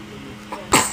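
A single sharp sneeze bursts out near the end, loud and close, after a quieter lead-in breath.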